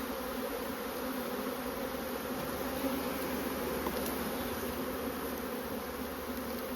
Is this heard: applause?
no